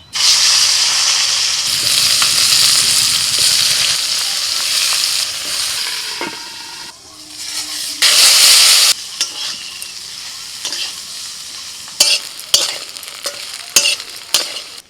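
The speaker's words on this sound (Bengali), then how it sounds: "তেল গরম হয়ে গেছে, হ্যাঁ কাঁচকলাটা দিয়ে দিচ্ছি।" Raw green banana goes into hot mustard oil in a kadai and fries with loud bursts of sizzling, then settles into crackling, hissing frying with occasional stirring clinks.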